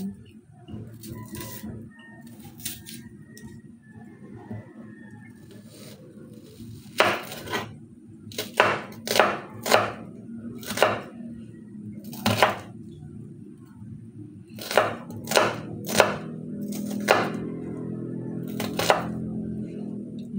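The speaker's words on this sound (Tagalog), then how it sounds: "At yung ating bawang, pupukpukin ko yan." Garlic cloves pounded in a home kitchen for beef afritada, a series of sharp, irregular knocks that come in quicker clusters over the second half, close up over a low background hum.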